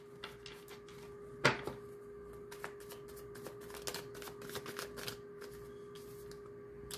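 Tarot cards being shuffled by hand during a reading, a crisp flurry of riffling taps and slaps with one sharper snap early on, close and fairly quiet over a steady low hum.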